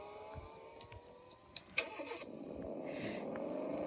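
Fastest car in the Car Dealership Tycoon video game, its engine starting with a couple of sharp clicks and then building into a rising, steady rev that grows louder toward the end.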